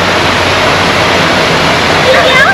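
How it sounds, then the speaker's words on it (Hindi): Waterfall roaring close by, a loud, steady broadband rush of falling water that stays continuous for the whole stretch. "फाइनली हम लोग यहाँ झरने के पास से रुके वापस से"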